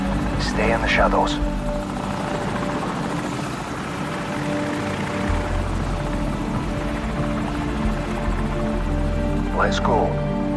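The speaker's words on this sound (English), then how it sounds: "Helicopter, get down." A helicopter drones steadily overhead with a low rotor chop in the video game Call of Duty 4: Modern Warfare, while voices speak briefly over the engine noise.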